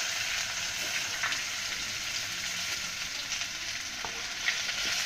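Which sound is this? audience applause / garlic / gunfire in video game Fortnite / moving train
garlic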